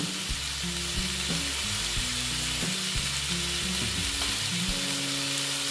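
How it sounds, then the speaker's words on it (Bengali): Squash and potato fry with ginger in a pan, giving a steady sizzle under repeated scraping stirs of a spatula that come in a loose rhythm. "নেড়ে চেড়ে নিচ্ছি।"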